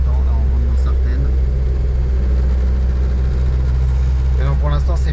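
A Renault 4L fitted with an R5 GTL engine drives along a main road, its steady low engine drone humming loudly in the cabin while people talk over it.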